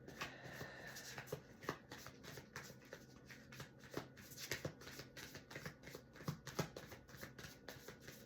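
Tarot cards are shuffled in a quick run of soft, riffling flutters and taps, close and fairly quiet, with no talking.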